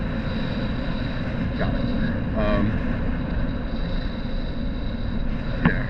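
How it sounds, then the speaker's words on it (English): Steady wind rush buffets past while an electric unicycle rolls along quiet back roads, a continuous low roar with a few faint clicks and a brief spoken word near the end. "I don't go too fast because then the wind will overtake my voice"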